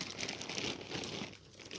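Close, continuous crinkling of a plastic bag holding game cards, dense and rustling throughout with a brief quieter dip, no talking.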